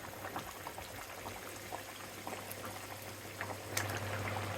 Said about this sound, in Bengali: এখন দিয়ে দেবো টমেটো।